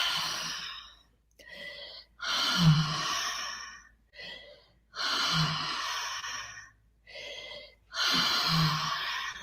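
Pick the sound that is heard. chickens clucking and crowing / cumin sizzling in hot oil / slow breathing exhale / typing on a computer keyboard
slow breathing exhale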